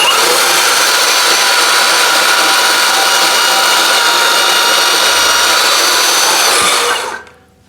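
A VEVOR 20V cordless portable band saw runs loud and close in a steady, continuous whine as it cuts, then winds down sharply at the end.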